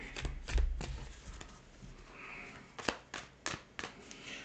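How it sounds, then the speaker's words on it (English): Tarot cards being overhand shuffled by hand in short bursts, quick papery riffles and slaps with pauses between, close and fairly quiet. "I'm having a hard time doing my overhand shuffle here."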